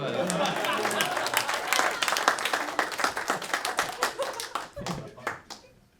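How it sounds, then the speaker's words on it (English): Comedy show audience clapping, a dense burst of applause that thins into scattered individual claps and fades, with some voice mixed in at the start. "I don't know why I expected you to clap there. Clap!"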